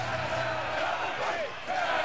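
A rugby crowd at Calgary Rugby Park roars after a Canada try against England 'A' in the 2004 Churchill Cup, loud and sustained with voices rising and falling, a brief dip, then swelling again.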